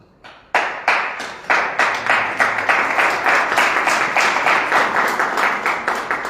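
An audience at a spiritual talk claps together in a fast, steady rhythm, many hands striking in unison for several seconds, close and bright, with no talking over it.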